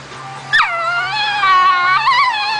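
A dog lets out a long, wavering howl that rises and falls in pitch like singing, close and loud with a faint hum underneath.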